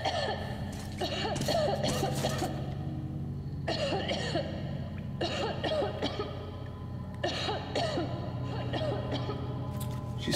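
Coughing and throat clearing from a character in a video game trailer come in several separate bursts over about ten seconds, with pauses between them and a low background hum.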